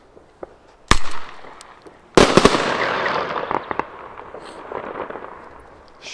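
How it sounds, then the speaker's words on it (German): Gold Weco blank cartridges fired from an RG96 blank pistol, two very loud sharp bangs a little over a second apart, each followed by a long echoing rumble that rings out through the surroundings. "Also richtig starke Knallpatronen. Sehr, sehr laut und wuchtig."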